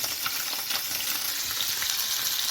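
A redfish fillet seasoned with salt and pepper fries in a pan, giving a steady, close hiss of sizzling oil that holds without a break.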